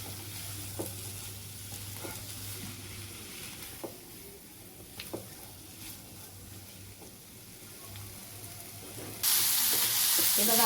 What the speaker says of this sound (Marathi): त्याला अजून एक 5 मिनिटं आपल्याला फ्राय करायचं आहे.